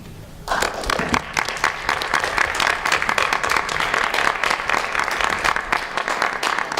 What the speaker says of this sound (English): So you guys both deserve a big round of applause for that.